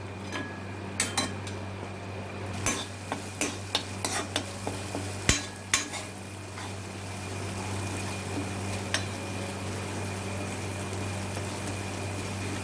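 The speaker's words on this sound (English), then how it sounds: "Now we mix it well." Butter corn rice being stirred in a pan with a utensil, a run of sharp scraping clinks against the metal over a steady low kitchen hum, then quieter sizzling.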